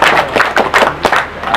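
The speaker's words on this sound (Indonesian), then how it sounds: "Tepukan kepada mereka semua" Audience applause at a summer camp session: a dense, loud patter of many hands clapping at once, with irregular bursts through a short stretch.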